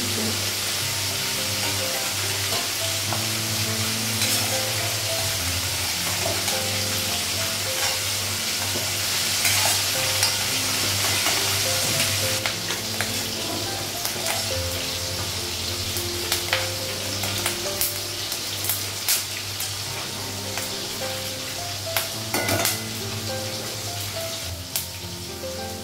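Bitter gourd stir-fried in a pan with salt, turmeric and a little ginger paste gives a steady, close sizzle with scraping stir strokes and clinks throughout, loudest midway and without any talk.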